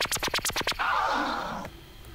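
Emulated DJ tear scratch from DJ software, played back at double speed, gives a rapid machine-like run of six or seven short scratchy bursts, then a longer smeared scratch that fades out, close and alone.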